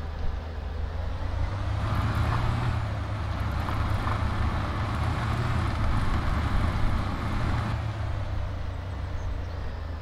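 A truck drives in the game Demolish And Build 2018, giving a steady, loud low engine drone with broadband road noise. It stays even for the whole stretch, easing slightly near the end.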